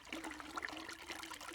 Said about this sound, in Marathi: हा बघा बिना मोटर बिना लाईट सायपन पद्धतीने पाणी पाजणे